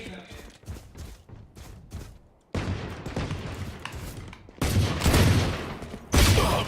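Bursts of gunfire from the Valorant video game come in rapid clusters, quieter at first and then louder from the midpoint onward, with players talking over the shots.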